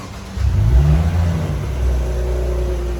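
2018–2019 Maserati car accelerating from near, its engine rumbling up into a rising revving roar that then settles into a steady whir.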